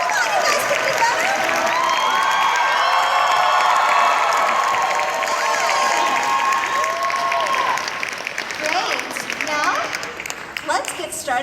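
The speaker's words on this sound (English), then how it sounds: "Let's give them all a big round of applause." Theater audience applauding and cheering after a Sailor Moon R movie premiere, dense sustained clapping with shouts and whoops from a large crowd, thinning out toward the end.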